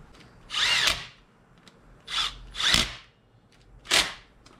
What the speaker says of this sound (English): I love these little impact wrenches